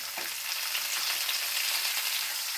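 Eggplant frying in a pan with ginger-garlic paste, a dense, even sizzle with faint stirring, continuous and fairly close, no talking.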